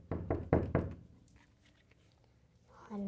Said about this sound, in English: Another knock.